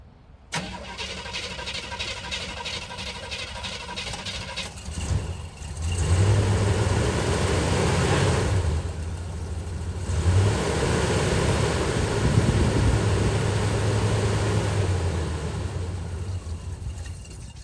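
A 1975 Chevrolet C20 pickup that has sat unused for a while cranks over several seconds before catching, then runs with two loud revs rising and falling in the open, no voices over it.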